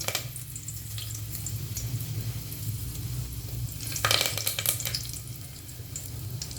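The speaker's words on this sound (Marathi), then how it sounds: "तेल गरम झाल्यानंतर त्याच्यामध्ये आपण पहिले कडीपत्ता तळून घेऊया" Curry leaves dropped into hot oil in a pan, giving a steady soft sizzle and crackle with a louder burst of spitting midway before easing back to a quiet fry.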